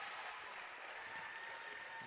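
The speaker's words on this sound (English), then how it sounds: "A healthy round of applause for her first bucket of the afternoon" Crowd applauding at a Canberra Gunners versus Illawarra Hawks basketball semi-final, a steady, dense wash of clapping from many hands filling the arena with no break.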